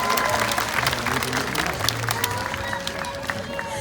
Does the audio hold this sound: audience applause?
yes